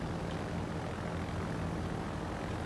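Propeller aircraft engines from carrier planes in the World of Warships naval battle game drone steadily and loudly throughout, a dense continuous roar with no pauses.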